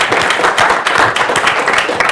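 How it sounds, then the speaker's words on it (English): A crowd applauding, dense continuous clapping from many hands, loud and close, with no voices over it. "Let's give David a round of applause"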